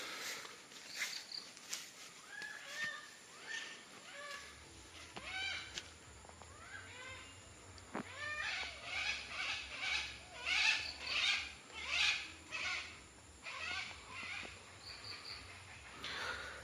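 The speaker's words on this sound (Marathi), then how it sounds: "पक्ष्यांचा आवाज आहे का" Birds chirp and trill repeatedly after an unseasonal rain, at a moderate distance, their calls rising and falling over a steady low hum.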